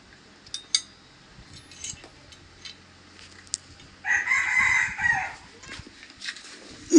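A rooster crows once in the middle, a loud close call lasting about a second, among scattered clinks and small knocks near a chicken cage, with no talking.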